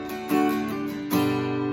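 Two strummed chords on a Taylor A12 acoustic guitar ring out in turn, each struck firmly and left to sustain warmly, close and clear.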